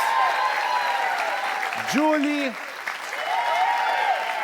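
An audience applauds a band as its members are introduced on a Brazilian television interview stage, steady broadband clapping running throughout while a voice speaks over it.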